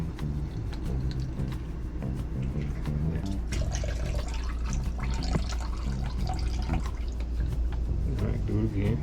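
Water being poured into an RV black tank, a gurgling, splashing stream with irregular drips and sloshes, partly under voices talking nearby.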